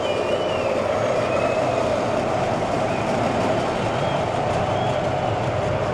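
A Zierer Tivoli roller coaster at Parque Warner Madrid runs with a steady, continuous rumble and rattle of wheels on track, with faint squeals layered over it, heard from nearby at an even, unbroken level throughout.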